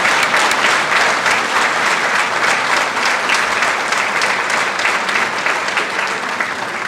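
Sustained applause from an audience at a 2019 Nash County GOP political convention in North Carolina, a dense, steady wash of clapping that stays loud and even throughout with no speech over it.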